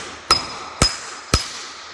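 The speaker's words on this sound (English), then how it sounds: "you want to swing the hammer like a madman" Three sharp, loud hammer blows, evenly spaced about half a second apart, driving 11/16 nails through a carpet tack strip into a concrete floor, each strike ringing briefly with a metallic ping.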